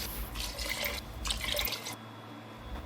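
Water pours in short splashy bursts, gurgling into a cooking pan with onions, ginger and beef for beef pares, then stops with a brief trickle near the end.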